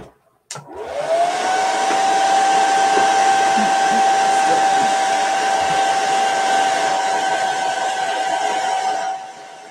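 A heat tool whirs up after a click and runs steadily at high pitch, drying Chalk Couture ink on a fabric dish towel, loud and close with no talking, then cuts off near the end.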